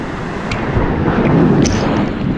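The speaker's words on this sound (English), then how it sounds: "To me, these waves are ridiculous." Ocean waves surge and wash against coastal rocks where barnacle gatherers climb, a steady loud rumbling roar with some wind noise on the microphone and no talking.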